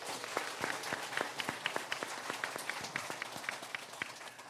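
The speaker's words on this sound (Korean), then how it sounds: "한 번 더 박수." Applause in a church congregation during a sermon: a steady wash of many hands clapping at moderate volume, with sharper individual claps standing out throughout, no talking over it.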